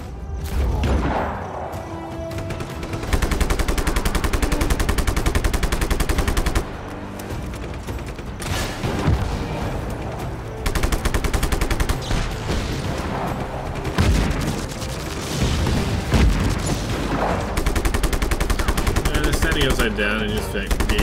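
Dense gunfire and explosions from Just Cause, with heavy rapid bursts and booms filling nearly the whole stretch at steady high loudness, attack on a pipeline checkpoint.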